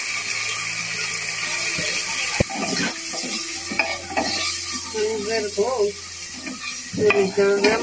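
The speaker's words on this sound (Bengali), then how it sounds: "গরুর মাংস রান্না করার জন্য আমি এখন প্রেশার কুকারে মশলাগুলো কষিয়ে নিচ্ছি।" Spices being stirred and fried in a pressure cooker while cooking beef: steady close sizzling with scraping stirring strokes and clinks of a spoon against the pot, no talking.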